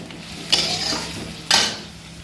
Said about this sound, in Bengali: এবার ঢেলে দিচ্ছি মাছটা।